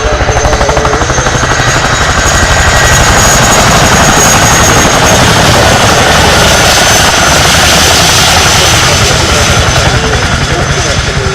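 A Chinook heavy-lift twin-rotor military helicopter roars loud and close, its rapid rotor thump pulsing steadily and continuously with a whining engine tone above.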